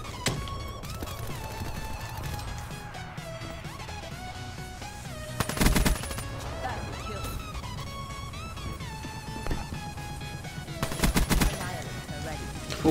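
Automatic gunfire in the video game Call of Duty: Black Ops 3, two loud bursts of rapid shots standing out over constant game sounds and background music.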